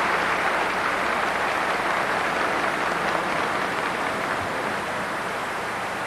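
A capacity crowd in Peking applauds a figure skater at a 1982 exhibition show, a dense, steady wash of clapping filling the arena without letup.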